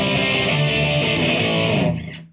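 An electric guitar is played through a profile of a distorted 1971 Marshall amp, and a sustained, heavily overdriven chord rings loud and thick before cutting off.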